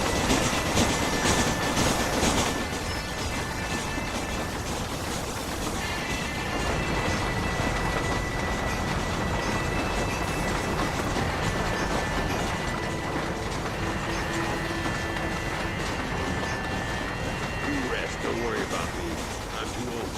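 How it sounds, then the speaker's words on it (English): A train running in the video game Red Dead Redemption, a continuous loud rumble with rhythmic wheel clatter and tonal mechanical hums, with a person talking over it. "The train straight chilling in RDR1"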